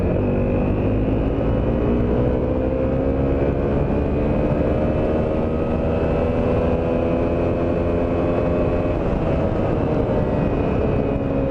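A 2014 Honda CRF250L motorcycle accelerating hard in second gear, a loud steady engine whine climbing in pitch and holding high revs, heard up close throughout with no talk.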